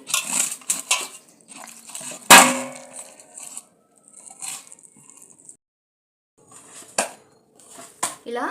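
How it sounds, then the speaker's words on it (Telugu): Dough for kajjikayalu is mixed with oil in a bowl, giving close clinks and clatter from the bowl with soft, squishy kneading between them and a sharp knock partway through, while someone speaks over part of it. "కొంచెం ఆయిల్ వేస్తున్నాను దీనివల్ల పిండి ముద్ద కొంచెం స్మూత్గా ఉంటుందండి"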